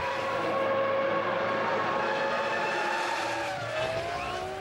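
Mika Häkkinen's Formula 1 car at the 2001 Spanish Grand Prix howling down the start-finish straight, a continuous high-revving engine whine with rising pitch sweeps, steady and loud without speech.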